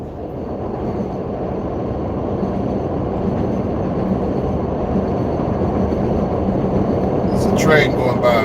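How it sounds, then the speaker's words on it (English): Train passing by outdoors, a steady loud rumble of rolling railcars lasting throughout, with a brief squeal near the end and a person talking over it. "There's a train going by."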